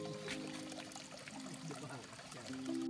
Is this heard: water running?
yes